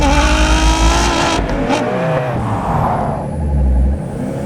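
Engine idle of a car in the racing game Test Drive Unlimited Solar Crown on PS5, a loud steady low rumble with mechanical tones, swelling briefly near the end.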